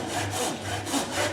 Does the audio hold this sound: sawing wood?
yes